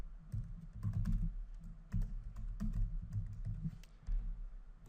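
Typing on a computer keyboard while entering account details, soft close keystrokes in quick irregular bursts with brief pauses between.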